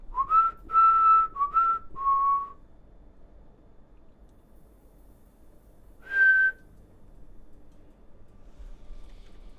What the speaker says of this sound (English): when you're whistling music, how does your mind know how to make a note sound similar